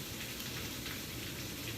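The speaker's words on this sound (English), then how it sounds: "It is like seriously coming down, and it's that time of year when we get the rainy season anyway" Heavy rain pours down as a dense, steady hiss of drops on surfaces, unbroken and fairly quiet, with no voices.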